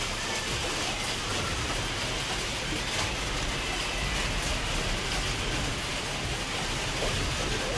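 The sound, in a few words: rain falling outside a gallery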